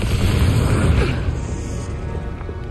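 Hogwarts Legacy spell explosions from Confringo and Reductor casts produce loud, dense booming blasts that roll continuously and fade slightly toward the end, with no speech over them.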